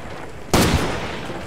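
A single sharp, loud gunshot in Far Cry 2 cracks out of a quiet background and trails off in a short rumbling echo.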